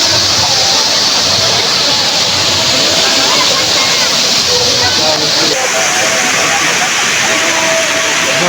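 Bhairaghumar waterfall in Chandahandi, a steady loud roar of falling water filling the whole stretch without pause, with no clear voices standing out above the rush.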